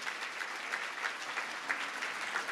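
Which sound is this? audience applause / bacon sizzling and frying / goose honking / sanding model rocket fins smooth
audience applause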